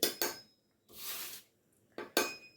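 A metal spatula clatters and scrapes against a pan while roti cooks: a few sharp close clinks, a brief scrape, then two more clanks in a quiet kitchen.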